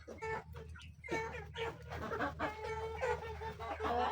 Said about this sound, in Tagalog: dito ako para pakainin yung mga manok ko